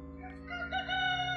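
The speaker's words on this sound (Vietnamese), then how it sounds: "Bên ngoài tiếng gà gáy nhốn nháo báo hiệu một ngày mới đã tới" A rooster crows outside at daybreak as a sound effect in a folk ghost story, one sustained, fairly loud call that rises and holds to the end, heard alone with no voices.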